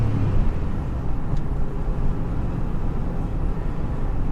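A 2001 Chevrolet Silverado pickup drives along with a steady, close engine and road drone that holds constant throughout, failing to shift into third gear.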